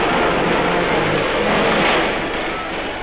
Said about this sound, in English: After the fighting, copters put down to evacuate the wounded.